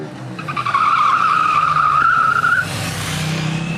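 A KTM 890 Duke's rear tire squeals in a sustained skid for about two seconds as the wheel slides under braking in Supermoto ABS mode, loud and near, fading into engine and road noise.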